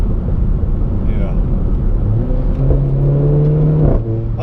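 Renault Clio RS 200 EDC with an aftermarket induction kit and centre resonator delete, its engine rumbling and revving with a rising intake whir during a drive, continuous and close, with some talk over it.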